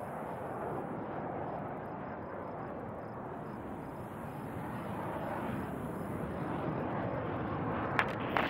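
A military fighter jet flies in low, its broad, steady engine roar filling the air and swelling slightly louder toward the end, with no voices over it.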